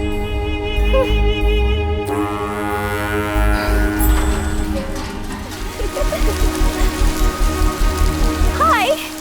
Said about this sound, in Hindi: जाते वक्त जो बारिश आनी चाहिए थी वो लौटते वक्त आ गई